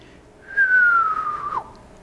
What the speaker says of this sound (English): What you are listening for is a descending whistle,